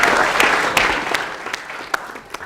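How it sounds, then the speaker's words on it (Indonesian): Audience applause at a Gayung Bersambut show at Poltek LLASDP Palembang, loud sustained clapping from a crowd with sharp individual claps standing out, gradually tapering over a couple of seconds. "Tepuk tangan untuk mereka berdua."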